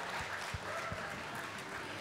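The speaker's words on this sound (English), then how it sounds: "Give her a round of applause, please, ladies and gentlemen." Steady audience applause fills a Golden Shears wool handling heat, a dense, even wash of clapping from a crowd held at a constant level throughout with no pauses.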